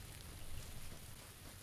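Steady rain falling in the video game PUBG, a soft even hiss of drops on surfaces, quiet and continuous with no voices.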